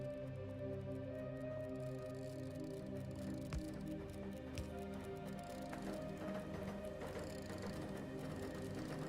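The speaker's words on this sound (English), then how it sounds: "That was the sound of those drones." Drones in the factory-building video game Factorio make a low, steady mechanical whirring hum, layered droning tones that hold constant and faint for several seconds with occasional soft taps.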